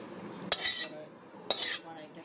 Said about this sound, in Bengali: দেখুন আমি এখন এটা একটা পাত্রে ঢেলে ফেলছি পুরোটাই।